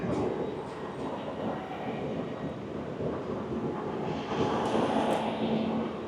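A Swiss Interregio double-decker train pulls into a station, a steady rumbling roar of wheels and carriage noise holding for several seconds with faint higher squeals above.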